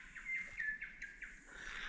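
Birds chirp and tweet in a forested gorge by a boulder-strewn creek in Cania Gorge National Park, Queensland, a run of quick, high, faint calls repeating over soft ambient hiss with no talking.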